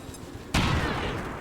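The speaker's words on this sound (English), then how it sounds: "we're going to take him out with a grenade then" In the XCOM 2: War of the Chosen video game, a grenade explosion bursts in suddenly after a quieter background, then settles into a loud, roaring rumble that fades slowly.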